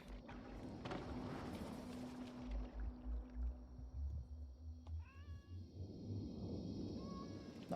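A cat meows several times in short, rising calls near the end, each brief and fairly clear, following a stretch of low rumbling and clatter from a harpooning boat game.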